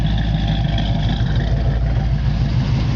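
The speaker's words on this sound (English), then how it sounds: "it's got a great sounding exhaust. It's not overboard, but you definitely can rev up the engine." A 1972 Chevrolet Camaro engine rumbles steadily through its exhaust, a deep, continuous low-pitched drone with slight surges, close and loud with no talking.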